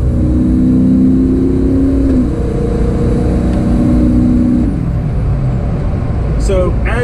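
A 6.0 Powerstroke diesel pickup with an SPD tune pulls away from a stop, its loud engine roaring and a rising turbo whine building before the pitch drops near the end, with a brief voice at the close.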